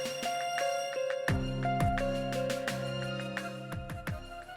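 A phone ringtone plays in a repeating electronic melodic pattern, a steady looping ring heard clearly with no voices over it.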